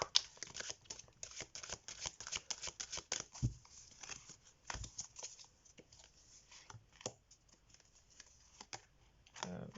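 A deck of oracle cards is shuffled and handled by hand at close range, with quiet irregular riffles, taps and slaps of the cards, alone and without talk.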